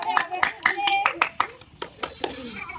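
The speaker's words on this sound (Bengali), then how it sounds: "ওদের মনোযোগটা বাড়াও, জোরে জোরে হাততালি দাও" A group claps hands at a ball-in-the-basket party game, with about a dozen sharp, fairly loud claps in an uneven rhythm that thins out toward the end.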